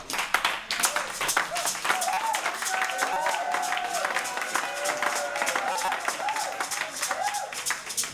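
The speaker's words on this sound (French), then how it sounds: "Je veux que vous acclamiez très fort pour ça." A church congregation at an Assemblies of God service in Togo claps and cheers loudly and continuously, with dense rapid hand claps and raised voices filling the room, and a voice carrying over the applause.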